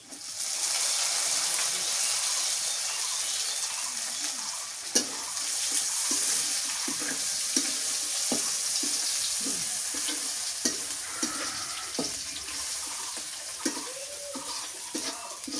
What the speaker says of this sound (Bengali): শুক্তিটা তেলে ভেজে নেই